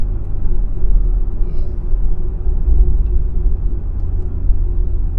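Deep, steady exhaust rumble from a Corvette idling close by with its exhaust bypass closed, loud and continuous with no voices.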